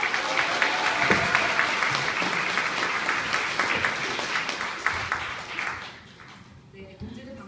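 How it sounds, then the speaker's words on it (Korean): Audience at a Women's Day rally breaks into sustained, loud applause welcoming a speaker, dense clapping that fades toward the end with a few scattered claps. "첫 발언 큰 박수로 맞아주시기 바랍니다."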